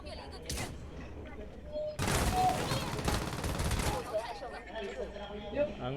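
Rapid bursts of gunfire in the battle-royale game Knives Out, a sharp volley early, then two dense sustained salvos in the middle, with players chatting over the shooting.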